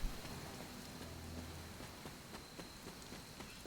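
Soft rain patters steadily in the video game Marvel's Midnight Suns, a faint continuous hiss with scattered drop ticks and a low hum fading out early.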